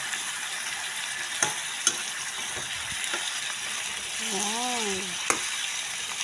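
Chicken adobo seasoned with pepper sizzles steadily in a pan while being stirred, with a few scraping clinks of the utensil and a short spoken word partway through.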